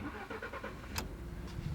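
A Ford F-150 pickup truck engine cranks and catches, a short run of rhythmic starter pulses followed by a low, faint idle rumble, alone without talk.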